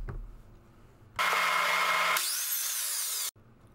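A power drill runs steadily with a countersink bit, boring pre-drilled holes into the underside of 2-inch-wide, 1-inch-thick wooden boards: a loud, sustained whine lasting about two seconds, pitch shifting midway, then stopping abruptly.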